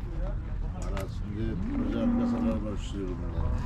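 Cattle at a livestock market, with a long low moo rising out of a busy open-air din of voices and shuffling, close and fairly loud.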